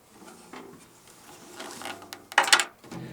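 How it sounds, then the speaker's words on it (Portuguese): Metal drum tuning key working loose the tension rods on a drum rim, a series of soft mechanical clicks and scrapes with a louder rattling burst near the end, close and alone. "Para isso você vai usar sua chavinha de afinação, você solta tudo"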